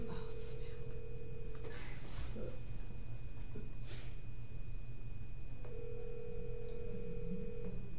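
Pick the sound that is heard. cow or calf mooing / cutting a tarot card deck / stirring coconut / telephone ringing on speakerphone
telephone ringing on speakerphone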